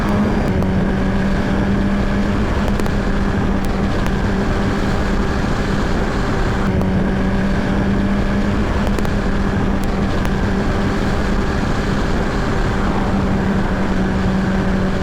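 Wave 1000RR motorcycle engine roaring steadily at speed with a sustained droning tone and constant wind rush, loud and continuous.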